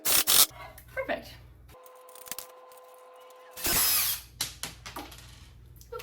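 A handheld power drill drives small screws into a wooden shelf, with a short burst early on and a longer whirring run near the middle, close and fairly loud amid handling clatter and intermittent talking.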